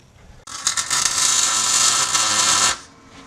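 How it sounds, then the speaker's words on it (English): Tack welding U-bolts on a 1969 Plymouth Valiant gives a steady, loud crackling buzz that runs about two seconds without pause and then cuts off abruptly, with no talking over it. "go ahead and throw some tack welds on it. There they go."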